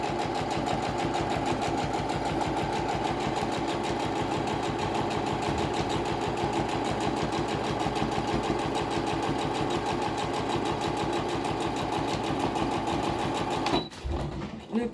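A sewing machine stitches a straight seam along fabric for a washable mask, its rapid steady needle rattle running close and continuous before stopping abruptly near the end.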